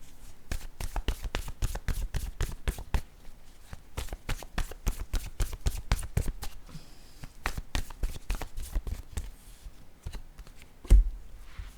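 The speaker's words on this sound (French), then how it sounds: "Je vais piger une carte." Cards from a board game deck are handled and flicked in a rapid run of crisp, close taps and riffles, pausing briefly before another burst, with a single louder knock near the end and no talking.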